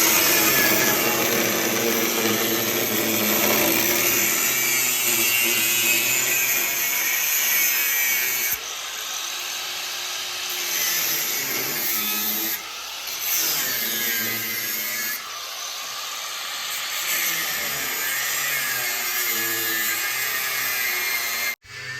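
A power tool cuts through the tops of the metal strut towers on a front-wheel-drive car. A loud, continuous grinding whine is broken by brief dips and pauses before it stops abruptly at the end, with no talking.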